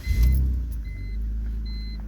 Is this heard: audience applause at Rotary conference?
no